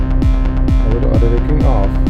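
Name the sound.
FL Studio Mobile beat playback with auto ducking on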